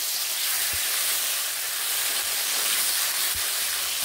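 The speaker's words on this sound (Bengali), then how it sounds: "টমেটোগুলোকে এখানে দিয়ে আরও কয়েক সেকেন্ড এইভাবে নেড়ে নিচ্ছি" Chopped tomatoes sizzling in hot oil with tempering spices, a steady broadband hiss with a couple of soft stirring knocks, close and continuous with no talk.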